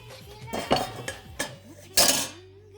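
Gulab jamun being mixed in a pot of syrup spiced with cardamom, clove and orange zest: a few sharp clinks and scrapes of a utensil against the pot, close and fairly loud, with no talking.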